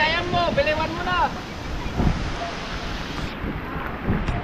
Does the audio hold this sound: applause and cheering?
no